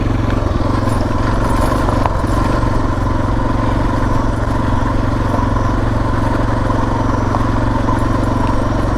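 Dual-sport motorcycle ridden down a dirt road, a loud continuous engine rumble with road clatter, close and steady throughout.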